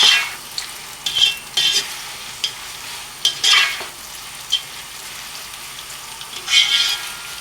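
Onions frying in hot oil for a Pakistani bhindi dish, a steady soft sizzle broken by several sharp bursts of hissing and stirring scrapes, close and alone with no talk.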